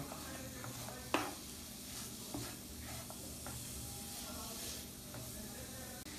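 Finely chopped jaggery being stirred into a pan for ukadiche modak filling: soft scraping and a low sizzle, with one sharp clink of the spoon early on, then quieter steady stirring.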